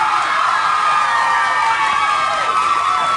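A studio audience at a live music interview broadcast cheers and shouts loudly and steadily, a dense crowd roar with no clear applause claps standing out.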